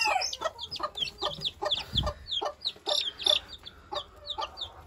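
A Silkie bantam hen sitting over Houdan chicks gives a run of soft, rapid clucks close by, mixed with high chick peeps throughout.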